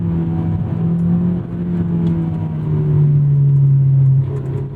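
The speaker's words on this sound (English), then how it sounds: "The centerpiece of the S2000 is this powertrain, this engine transmission combo." A Honda S2000 AP2 engine runs steadily at moderate revs, its loud, continuous drone rising slightly in pitch partway through, close by with no voices.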